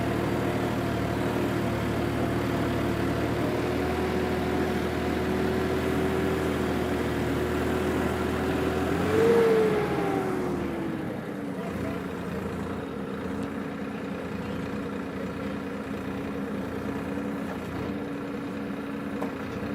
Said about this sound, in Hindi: ट्रैक्टर का जोर थोड़ा सा ज़्यादा लग रहा है